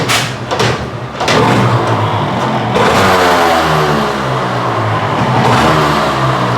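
A motorcycle engine catches after a couple of cranking bursts and then settles into a loud, steady idle with gentle revving, close to the microphone.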